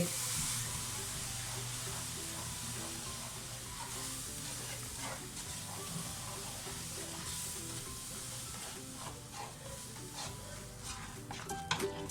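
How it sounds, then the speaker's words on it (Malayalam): Semolina is stirred into milk in a pan, giving soft, faint scraping and gentle bubbling with a light hiss throughout and no one speaking. "നമുക്ക് ഈ റവ നന്നായിട്ട് ഈ പാലിലിട്ട് മിക്സ് ചെയ്തെടുക്കാം"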